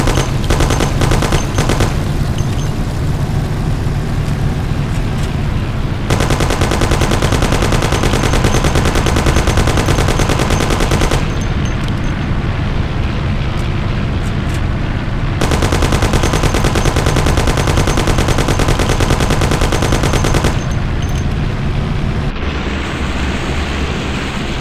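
Sustained bursts of rapid automatic gunfire in Mafia HD Remastered rattle loudly and close, broken by brief pauses between long volleys, with no talking.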